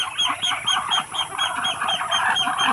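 Muscovy duck ducklings peep and call together at feeding time, a dense, continuous chorus of high, repeated chirps close by with no talking over it.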